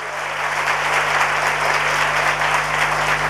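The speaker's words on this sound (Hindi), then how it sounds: "तबीयत से ताली बजाइए" An audience at a motivational talk applauds in a sustained, dense burst of clapping that swells and holds steady, loud and close, with a low electrical hum underneath.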